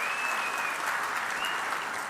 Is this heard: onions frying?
no